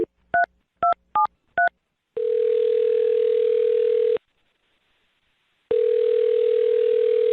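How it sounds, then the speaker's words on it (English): Five quick touch-tone beeps of a number being dialed, then two long ringback tones with a pause between, heard clearly through a phone line. "I'm going to dial her phone number right now."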